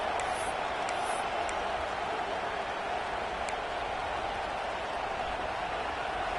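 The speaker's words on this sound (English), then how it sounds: "This dog crowd is off the leash, and they are coming after them, bringing noise on 3rd down." A packed stadium crowd roars on third down at an LSU at Georgia college football game. The dense, steady wall of noise holds at full volume from start to finish.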